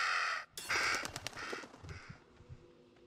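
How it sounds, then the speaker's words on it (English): Crow cawing in the horror video game Little Hope: several harsh, raspy caws in quick succession, fairly close and faint, with flapping and rustling between them. "It was the fucking crow."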